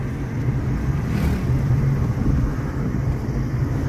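A Tata Nexon's engine hums at low, even revs in city driving mode from inside the cabin, a steady rumble with road noise and no talking.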